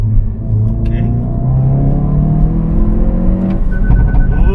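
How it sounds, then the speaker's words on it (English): Car accelerating hard with popping exhaust, a close, loud engine drone that climbs steadily in pitch, with a few sharp pops and crackles breaking through the rising note. "The pop is coming from the exhaust."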